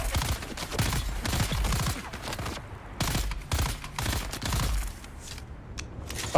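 Sniper and rifle fire in the video game Dune, a rapid string of sharp, close gunshots and bursts with brief gaps, loud throughout the stretch.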